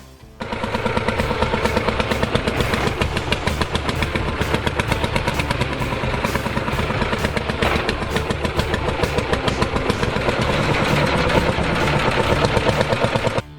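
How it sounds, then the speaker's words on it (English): Lanz Bulldog D4506 tractor, the 1936–1942 German Bauern Bulldog farm tractor built by Heinrich Lanz AG, runs steadily with a loud, close, rapid thumping engine beat that holds throughout, with no talk. "D4506, known as the Bauern Bulldog or Farmer's Tractor, was a model produced between 1936 and 1942 by the German company Heinrich Lanz AG."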